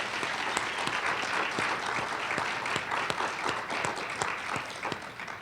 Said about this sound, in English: Shar and Linda, can you guys give them a round of applause?